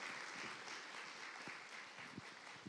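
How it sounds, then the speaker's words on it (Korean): Church congregation at a Sunday worship service applauding to welcome a new member, soft and distant continuous clapping with a few louder individual claps standing out. "박수로 환영해 주시면 감사하겠습니다"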